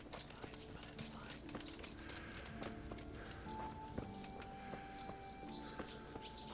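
Horse hooves in a video game clop in an irregular rhythm over a busy game soundscape with tonal music notes, with faint background chatter.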